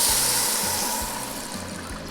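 Stock poured into a pot of toasted pearl couscous, a soft steady hiss and gush of liquid with faint bubbling and low rhythmic thumps, gradually easing in loudness.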